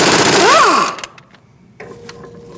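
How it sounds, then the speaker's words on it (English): Rapid mechanical rattle of a tool spinning off bolts with a 21mm socket on a Mercedes-Benz C300 CV axle, loud at first and then dropping to quieter clicks and clatter. "Let's remove our bolts."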